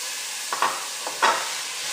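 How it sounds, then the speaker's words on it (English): Turkey browning in coconut oil in a pan gives a steady, quiet sizzle, with two brief scraping stirs from a utensil. No one speaks. "So I'm just going to start by browning my turkey. I've got some coconut oil in the pan."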